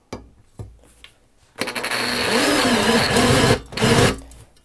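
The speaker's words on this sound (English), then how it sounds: "Then the next step is just to drill holes here." A battery drill bores holes through an aluminium plate for a twig stove, a steady close whirring grind lasting a few seconds after two brief knocks, dipping briefly before a final burst.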